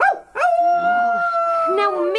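A person imitates a howling dog on stage, giving a sustained, wavering howl after a brief yelp, loud and close.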